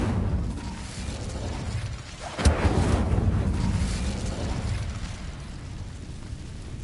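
An Incendio fire spell cast in a magic-school video game erupts in one sudden, loud whooshing burst, then settles into a sustained rumbling roar over constant wind-like background noise.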